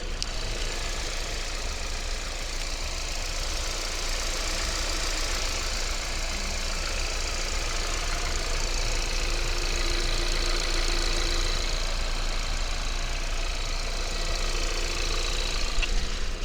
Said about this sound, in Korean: 엔진 소리 한번 들어봐야겠죠